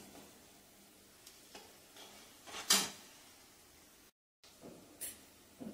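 Coriander powder, garam masala and spices roast in a pan, giving a soft low sizzle with occasional scraping stirs and a couple of sharper clinks, fairly faint and close, with no talk.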